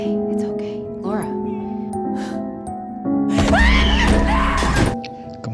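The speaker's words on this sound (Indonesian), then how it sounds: "Dia pun menjerit histeri" A woman screams hysterically in a horror film scene, a loud, high, wavering shriek that rises over a few seconds amid dramatic score and crashing effects.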